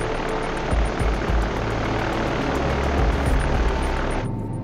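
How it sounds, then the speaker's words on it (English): A B-29 bomber takes off from an airbase on Tinian in the northern Mariana Islands. Its propeller engines give a steady, loud, dense roar with low rumbling throughout, dropping slightly at the very end. "the crew of a B-29 named Enola Gay, after the Captain Paul Tippett's mother, takes off from their airbase in Tinian"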